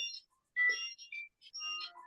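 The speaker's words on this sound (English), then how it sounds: "is that somebody's phone?" A phone ringtone plays in short electronic melodic bursts with brief gaps, fairly faint and on its own without talk.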